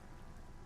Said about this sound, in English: Sound of the rain